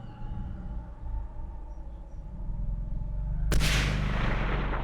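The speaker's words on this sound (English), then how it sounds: "Let's shoot that guy at the very least." Gunfire in the World War II shooter Hidden & Dangerous 2 comes as one loud, sudden blast that follows a low rumbling game ambience, then a sustained noisy tail, with no talking.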